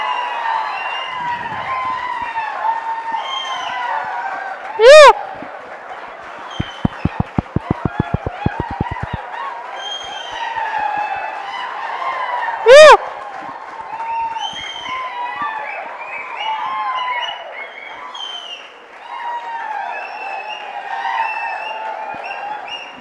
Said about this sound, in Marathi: राहुलसाठी जोरदार टाळ्या झाल्या पाहिजेत.